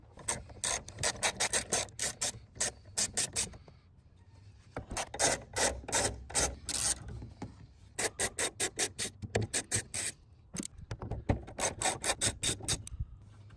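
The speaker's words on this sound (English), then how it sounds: "So we're going to remove two nuts from here and two from that side." A 10 millimetre socket on a ratchet wrench loosening nuts on a Mercedes hood vent grille, rapid clicking bursts repeating in several close, loud runs with short pauses between.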